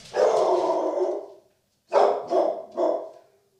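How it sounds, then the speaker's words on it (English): Dogs barking nearby at a house, one long drawn-out bark or howl followed by a pause and then three shorter barks in a row, fairly loud with no talking. "there goes my dogs going off"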